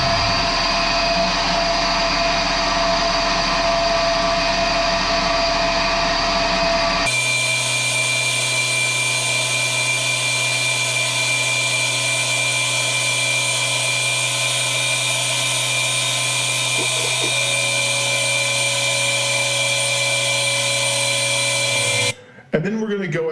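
A Tormach CNC mill facing aluminum stock makes a steady loud machining drone with a constant high whine, shifting in pitch partway through as the cut changes, then stopping abruptly near the end.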